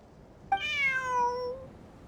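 A single clear cat meow in the video game Genshin Impact, drawn out and falling in pitch, close and moderately loud against a quiet background.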